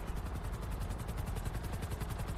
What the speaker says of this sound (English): Oh, there's the helicopter.